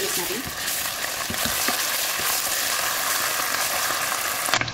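Onion fries in a pan with ginger garlic paste for chicken biryani, giving a loud, close, continuous sizzle broken by scraping stirring strokes and a few clacks of the utensil.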